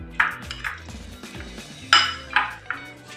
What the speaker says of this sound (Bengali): চিকেনটা চামচের সাহায্যে ম্যারিনেট করবো নাড়াচাড়া দিয়ে।